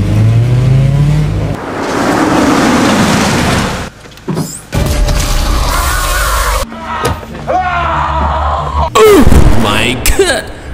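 A car engine fires up and is gunned hard during a frantic escape from an aggressive pocong, loud revving and bursts mixed with shouting voices and scattered impacts.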